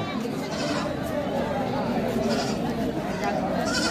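A goat bleats among the crowd at Dhelapir village livestock market in North Bengal, short cries rising over a constant murmur of voices and people talking nearby.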